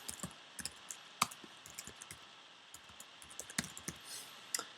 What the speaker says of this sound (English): I can just type it in here. I'm just putting test content in here.